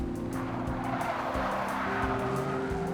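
A truck tears away at speed in a chase, engine roaring loud and continuous with a brief tyre squeal, no voices.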